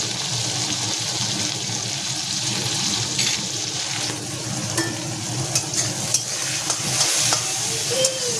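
Green beans with turmeric and salt frying in a kadai, a continuous close sizzle with occasional stirring scrapes and light clicks, steady and unbroken, with no talking.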